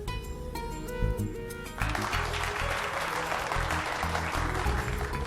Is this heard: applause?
yes